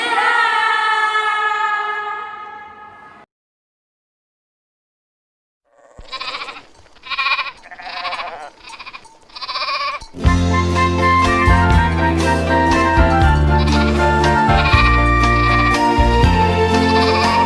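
Animal bleating in the context of a little lost sheep, several harmonic bleats in the first three seconds, then silence, a short burst of rhythmic sounds, and loud music taking over.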